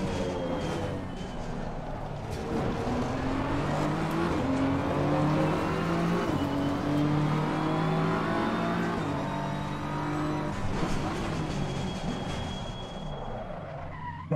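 Race car engine in Assetto Corsa Competizione running a steady lap, a loud continuous drone rising and falling through gear changes with skidding tire noise, no talking.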